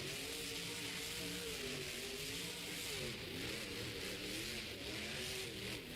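A monster truck named Earthshaker revs its engine inside a Monster Jam stadium in Detroit, a loud, continuous, rumbling roar with rising and falling pitch that fills the arena and carries on steadily for the whole stretch with no voices.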